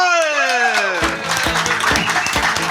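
A crowd at an evening stage show breaks into applause as a sustained musical tone fades, then the clapping continues over a steady beat.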